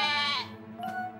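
A cartoon sheep gives a loud wavering bleat, then a shorter second bleat follows after a brief dip, both close and clear.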